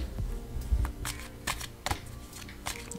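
Tarot cards being shuffled by hand in a quick, close run of crisp riffling flutters and soft slaps, with no talk.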